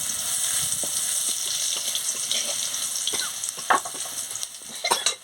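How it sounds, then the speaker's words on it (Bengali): Garlic paste sizzles steadily in hot oil with dried red chilli, a dense close crackle broken by a few sharp stirring scrapes and clinks toward the end; no one speaks. "রসুন বাটা দিয়ে ভালো করে বেজে নিচ্ছি"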